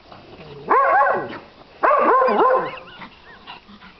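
A neighbor's dog gives two bursts of howling, yelping barks with wavering pitch, separated by a short pause, moderately close and without talk.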